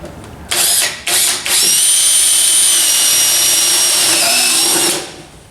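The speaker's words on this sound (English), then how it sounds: "move the seat up and drill through the witness holes that you just made" A power drill whines in two short bursts, then runs in one long high-pitched spin before winding down, drilling through a go-kart seat.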